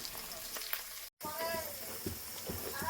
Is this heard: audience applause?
no